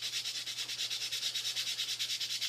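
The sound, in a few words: light sanding of wood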